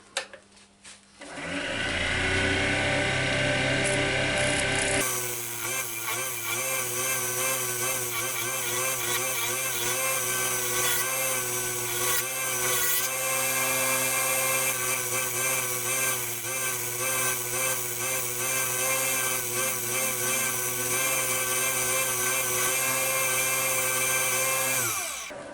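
A wood lathe turns a small winged wooden dish, with a loud, steady motor drone and strong harmonic whine, and a tool cutting off the spinning piece. It starts up after a brief quieter spell and then runs continuously.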